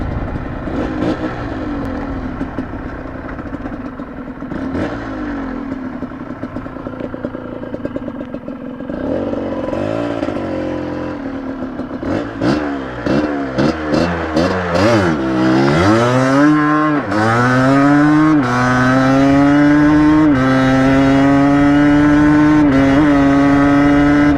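A two-stroke motorcycle with a quick shifter, idling and blipping at first, then revving hard with rapid rising sweeps that break cleanly at each shift, climbing again without the throttle being cut, loud and close.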